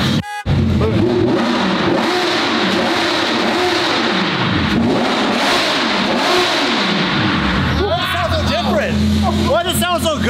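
A Lamborghini Evo 2 race car engine revs hard close by, climbing and falling in repeated loud surges, then a brief sharper burst of rapid revs near the end.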